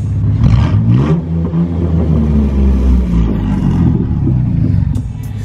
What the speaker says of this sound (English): He just took off the muffler. It sounds pretty freaking gnarly.